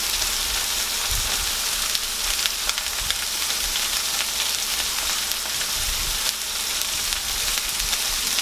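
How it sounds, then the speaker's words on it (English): Butter melts and sizzles in a skillet, a steady close crackling hiss with small pops throughout and no talk. "I'm just going to add just a little bit of butter to the pan. Get this melting."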